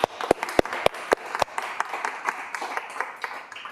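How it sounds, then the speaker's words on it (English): A few loud, close, evenly spaced claps open, then a scattered round of audience applause for a guest speaker at a sustainable innovation talk fades out lightly. "we might give Nick another big round of applause"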